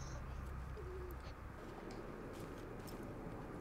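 Bird calls in the video game Rainbow Six Siege, a soft cooing like a dove heard faintly a few times over a steady low ambient hum, with no talking.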